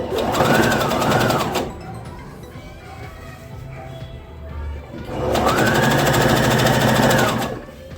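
Electric sewing machine stitching a folded hem on men's ready-made trousers, running in two steady loud whirring bursts with a quieter pause between them.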